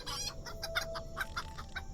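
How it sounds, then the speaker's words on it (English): Chickens cluck repeatedly in the game Lord of the Rings Online, a busy run of short clucks over a faint steady ambient hum, with no speech. "Chickens, that's good."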